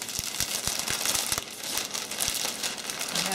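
Cellophane crinkles and rustles steadily over a gift basket while it is wrapped, close and fairly loud, with a few soft knocks underneath.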